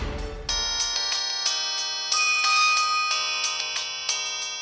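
A bright, bell-like ringtone chimes in a repeating melodic pattern, clear and close with no talking over it.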